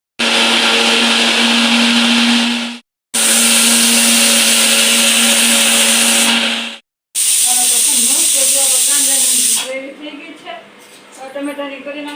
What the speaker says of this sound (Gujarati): તો હાલો ફટાફટ મિક્સરમાં ક્રશ.